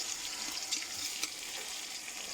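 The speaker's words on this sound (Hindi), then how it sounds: "और इन्हें अच्छी तरह से भून लेते हैं।" Chopped tomato and green chillies fry in a pan for a coriander rice dish, giving a steady, close, even sizzle with faint crackles and no talking.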